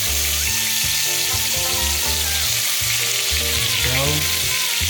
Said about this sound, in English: we're just gonna plop it right into the pan. I'm gonna let that melt up